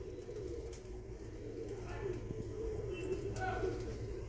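A pair of Madrasi pigeons with Calcutta eyes, nesting with eggs, coo softly in low, rolling calls. The cooing is faint against a steady background hum.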